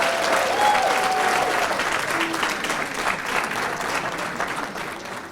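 Big round of applause from a banquet crowd at a bowling association adult banquet, honoring women's championship winners; dense, steady clapping fills the room at full volume throughout, with a faint voice briefly audible.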